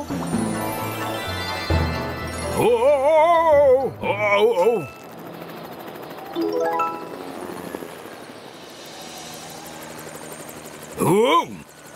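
A cartoon helicopter effect whirs and chops over bouncy music, with wobbling whistle-like swoops rising and falling, as an animated character transforms into a helicopter.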